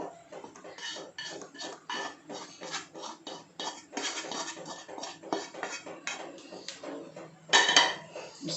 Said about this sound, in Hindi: इसके बाद आप इसको हम गरम गरम इस प्लेट में डाल देंगे।